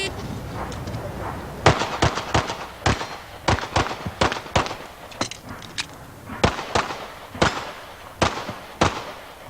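Rapid, sharp gunshots from a seated shooter on a 1988 USPSA National Championship pistol stage, firing about twenty loud, close reports in irregular bursts and pairs over several seconds, with no talk.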